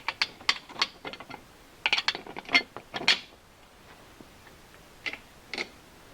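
Flange nuts on a Limbinator limb saw being tightened with a 9/16 wrench give off quick bursts of ratcheting clicks, two clustered runs early and a few scattered clicks later, close and fairly quiet.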